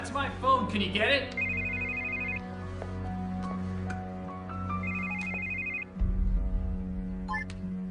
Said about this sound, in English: That's my phone. Can you get it?